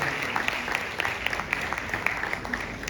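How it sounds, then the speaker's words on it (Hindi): Audience applause for the chief guest at a patriotic and cultural Independence Day program, a steady, dense patter of many hands clapping, fairly faint and somewhat distant, with no talking over it. "हमारे आज के मुख्य अतिथि महोदय धर्मवीर जी, मैं आपसे निवेदन में तालियों से हमारे मेहमान का सम्मान बढ़ाते रहे।"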